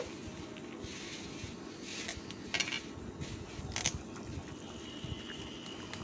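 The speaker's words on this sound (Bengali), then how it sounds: "ঢাকনাটা খুলে এখন আমি সুন্দর করে একটু নাড়িয়ে নেবো" Quiet clinks and scrapes of a spoon stirring whole chicken in an open pot, irregular metallic taps over a low sizzling background.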